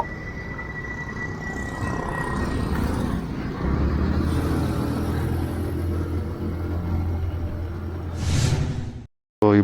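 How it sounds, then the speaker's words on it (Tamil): Road traffic in Chennai rolls past continuously with rumbling engines and passing vehicles, fairly close and steady, with a brief louder whoosh near the end before a short drop. "சென்னையில் கிட்டத்தட்ட டிராஃபிக்லாம் நார்மல் ஆகிடுச்சு."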